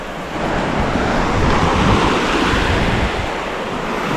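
Black Sea surf rolls onto the shore as a continuous loud wash, broad and roaring, with wind buffeting the microphone throughout.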